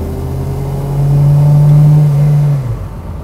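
A Volvo P1800 engine while driving: a steady mid-pitched hum that swells louder for a couple of seconds, then eases back, heard close and without speech.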